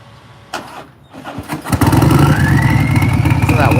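A turbocharged Harley-Davidson motorcycle engine starts up and settles into a loud, steady run up close, a rising high-pitched turbo whine sweeping over the deep engine rumble.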